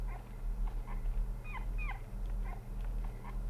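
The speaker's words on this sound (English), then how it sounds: "if it's like a sad, whimpering bark" Sad, whimpering dog yips from a video game, Rule of Rose, a few short high whines spread across the clip over a steady low hum of game ambience.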